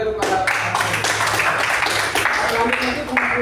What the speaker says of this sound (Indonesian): Berikan tepuk tangan sekali lagi kepada